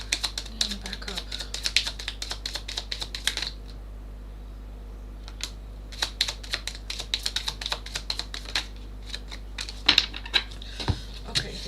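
Tarot cards being shuffled by hand, a rapid run of light papery clicks and riffles that comes in bursts with short pauses, close and fairly quiet, with a faint low hum underneath.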